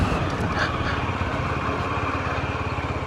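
Slow, stop-and-go traffic queued at the Valparai checkpost, with a steady close rumble of idling car and motorcycle engines and a little talk over the top.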